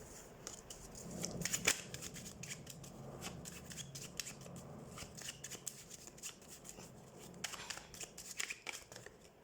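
Tarot cards shuffled and drawn from a deck during a weekly reading, giving a soft, fluttering riffle with crisp slaps and rubs, fairly close and quiet, with no talking.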